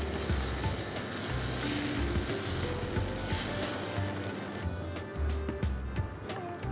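Dosa batter sizzles on a non-stick tawa, a steady, soft frying hiss with faint crackles that runs through the whole stretch, with occasional small clicks and light handling noises nearby.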